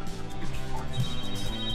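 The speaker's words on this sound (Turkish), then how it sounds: "Beyler rahmetlinin kim cebi çalıyor." A mobile phone rings with a loud, steady melodic ringtone that repeats in a tonal pattern throughout, close by and alone, with no talk over it.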